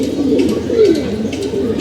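A pigeon coos close by in a soft, rolling series of low throaty calls, steady and fairly loud with no talking over it.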